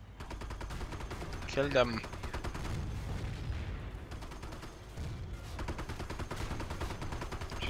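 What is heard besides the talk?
gunfire in the video game Company of Heroes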